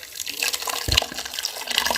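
A green onion and cilantro water mixture poured into a rabbit stew cooking in an African village, a continuous splashing, trickling flow with a brief low thump partway through.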